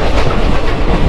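Kolkata–Digha passenger train in motion heard from inside a coach, a loud, dense rumble and rattle of the carriage filling the whole moment.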